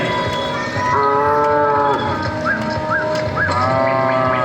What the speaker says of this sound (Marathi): मला ज्ञात झालं की आपल्याला भ्रमित करण्यासाठी भोलेनाथांनीच बैलाचं रूप धारण केलंय